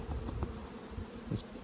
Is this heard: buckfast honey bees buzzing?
yes